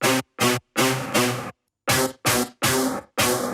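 An unprocessed Serum synth patch plays dry, several separate sustained notes or chords with short gaps between them, bright and full, on its own with no talking.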